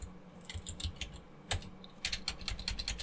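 Keys clatter on a computer keyboard as git commands are typed, a quick irregular run of close clicks with a brief pause, then a denser burst of keystrokes.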